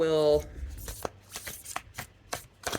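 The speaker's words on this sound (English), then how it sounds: "I find side shuffling, I can get through just about any card stock with any size deck" A deck of divination cards is side shuffled by hand, giving brisk riffling bursts and soft slaps in an irregular rhythm, close and fairly quiet, after a short opening tone.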